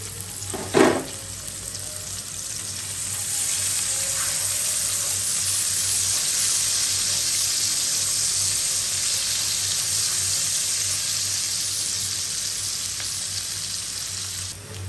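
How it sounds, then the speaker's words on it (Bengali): A ground paste of ginger, garlic, cumin, onion and tomato fries in hot oil with a constant loud sizzle, opening with a brief clunk, and no voices throughout. "পেস্টটা ভাজা হয়ে গেছে এখানে আমি আদা রসুন জিরা একটা পেঁয়াজ একটা টমেটোতে গ্রান করে নিয়েছি"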